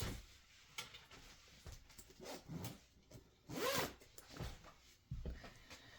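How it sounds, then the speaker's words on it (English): A zipper is tugged closed in several short, close rasping pulls with pauses between them, followed by faint handling rustles. "So I've zipped it closed."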